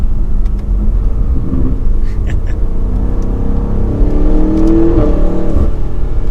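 A 2022 BMW M8 Competition Gran Coupe engine builds steadily as it accelerates to 4,000 RPM in sport mode with active exhaust on, a deep rising drone with low rumble underneath, continuous and close for several seconds.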